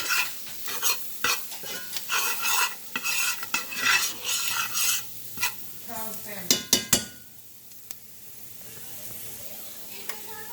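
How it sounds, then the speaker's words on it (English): Flour cooking with onions and garlic in a pan, rhythmic scraping and stirring strokes over a sizzle, then a few clanks of the utensil before it quiets to a faint hiss. "We're going to let that flour cook in with our onions and garlic."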